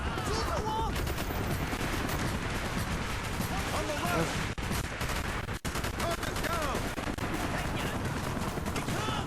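Dense, continuous automatic gunfire and explosions from Call of Duty: Black Ops, loud and rapid throughout, with a player shouting over it.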